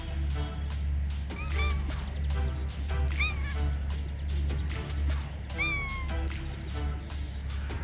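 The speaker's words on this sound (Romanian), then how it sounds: "Da, Miții, ai provocat-o pe Blacky și ea e cam pe fază" A domestic cat meows several times, short rising calls spaced apart, heard over a constant low hum and household background noise.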